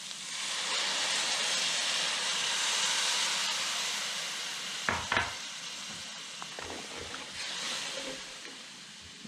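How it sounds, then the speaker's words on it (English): Beef stock poured into a pan of picadillo de vainica, a loud broadband sizzle and hiss that settles, followed by a few short stirring clinks and scrapes near the pan. "Now we'll add the beef stock."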